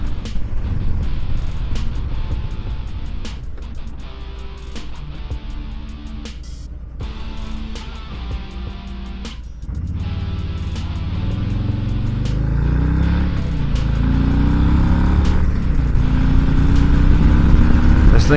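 A 2020 Harley-Davidson Low Rider S motorcycle on a ride, its engine droning loud and close throughout, with rising revs as it pulls harder toward the end under steady wind rush.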